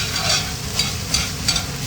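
Food is stirred in a hot pan over a steady sizzle of frying, with a few distinct scraping strokes spaced roughly a third of a second apart, close and moderately loud.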